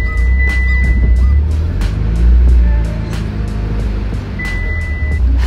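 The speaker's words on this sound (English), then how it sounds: "we're just driving out of the shop 10 feet, but she moves under her own power" A Mitsubishi Evo X rolls a few feet out of a workshop under its own power, a steady low engine idle and rumble close by, with faint intermittent electronic beeps over it.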